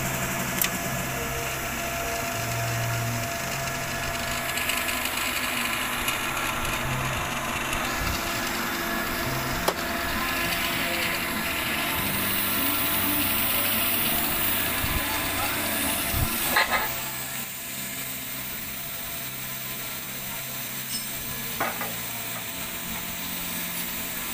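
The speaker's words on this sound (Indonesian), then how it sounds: "kita akan menggunakan mesin plasma cutting jenisnya inverter" An inverter plasma cutting machine cutting metal, producing a continuous harsh hiss and buzzing drone for the whole stretch, close and fairly loud, with a sharp change partway through as the cut ends and a quieter hum remains.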